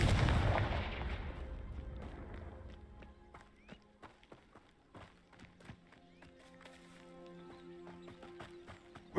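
Confringo fire-blasting spell in the Hogwarts Legacy video game, opening with a loud booming burst that decays, followed by scattered sharp clicks and faint game sounds.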